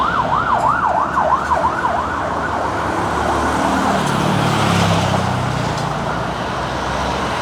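An ambulance siren wails briefly and then fades into the distance, leaving steady traffic rumble on a road in Vientiane, Laos.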